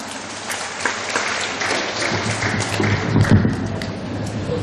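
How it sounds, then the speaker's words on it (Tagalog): Audience applause fills a covered court at a 2011 district awarding ceremony in Tayasan, steady broadband clapping throughout with a slight swell near the end. "atong kadaag masigabong palakpak"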